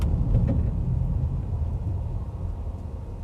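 Car driving on the road, heard from inside as a steady low rumble of engine and tyre noise, moderately loud and continuous with no talking.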